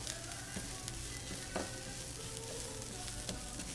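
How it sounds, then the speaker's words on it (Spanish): Risotto rice sautéing in a pan with onion and garlic gives a soft, steady sizzle with occasional stirring clicks, quiet and close, with no voices. "Ahora voy a colocar el risotto para que vaya absorbiendo, para que se sofría un poco con esa cebolla,"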